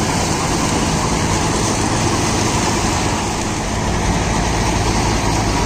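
A Deutz-Fahr tractor drives a rotavator through its PTO, the engine roaring loud and steady at close range with a dense, unbroken mechanical drone.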